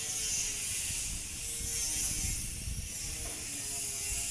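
A ratchet tool bolts a light steel roof truss into place with a fast, continuous clicking whir, fairly faint and without voices.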